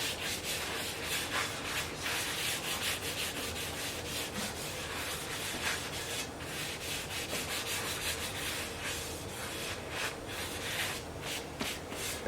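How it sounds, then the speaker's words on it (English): A cloth soaked in vegetable oil wipes over the metal part of a garden tool, making a continuous close rubbing and swishing sound with rhythmic strokes and no talking. "I usually put a little vegetable oil on a cloth and wipe over to help prevent rust"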